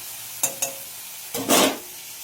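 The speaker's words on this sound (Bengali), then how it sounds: "চলো মাছটা ভাজা হয়ে যাক" Hilsa fish frying in a pan in a home kitchen: two quick clicks, then a short, loud burst of spitting hiss that quickly dies back to a quiet background, with no talking.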